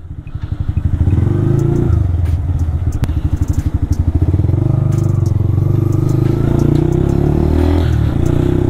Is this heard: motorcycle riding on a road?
yes